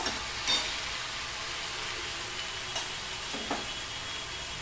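Ridge gourd frying in a pan while being stirred, a dense, even sizzle with occasional scraping strokes of a spatula, steady and close, with no voices.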